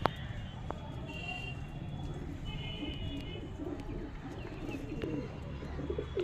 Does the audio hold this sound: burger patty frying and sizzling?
no